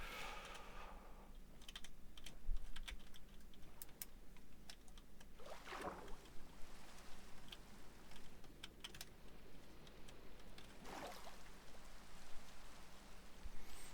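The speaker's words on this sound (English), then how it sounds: "That's heavier than usual rain." Heavy rain in a video game pours down steadily in a dense, loud hiss, with scattered sharp patters and clicks throughout and no voices.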